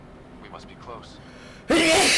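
A character in the Mass Effect Andromeda video game lets out a single loud, sudden sneeze right after a brief line of speech, sharp and close.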